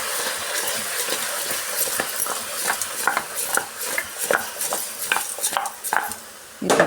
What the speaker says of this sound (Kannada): ಚೆನ್ನಾಗಿ ಮಿಕ್ಸ್ ಮಾಡ್ಕೊಬೇಕು.